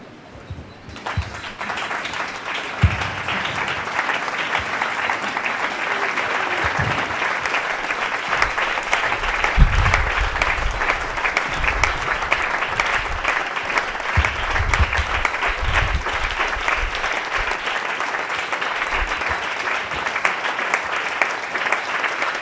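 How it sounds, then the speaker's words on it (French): A church congregation stands and applauds during a sermon, with dense, continuous clapping from a large crowd that swells and holds steady for about twenty seconds, while faint voices rise within it. "On va se lever, on va acclamer le Seigneur."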